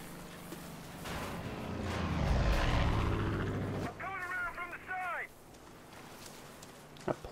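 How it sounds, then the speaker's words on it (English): An airplane flies overhead in the video game Far Cry 5, its roar swelling to a loud peak partway through and then dropping away. Sharp warbling chirps follow, then quieter game ambience. "Plane's really annoying."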